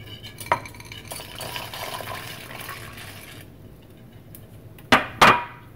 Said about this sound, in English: keep kind of stirring around a bit on very low heat